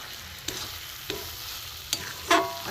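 Grated coconut with cardamom is stirred as it fries in a pan for Gokul pitha, giving a soft, steady sizzle with four quiet spatula scrapes spaced through it.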